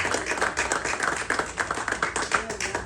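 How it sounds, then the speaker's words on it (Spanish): A church congregation applauding together, a dense, steady wash of many hands clapping close by for about three seconds, with faint voices mixed in. "Denle un fuerte aplauso al Rey de Reyes."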